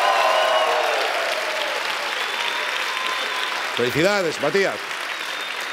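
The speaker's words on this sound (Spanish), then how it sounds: "¡Un aplauso!" Studio audience applauding steadily at a late-night TV show, a broad sustained clatter of clapping with a voice cutting in near the end to congratulate someone.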